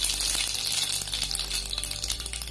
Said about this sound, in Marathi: आता त्यामध्ये आपण मोहरी टाकणार आहोत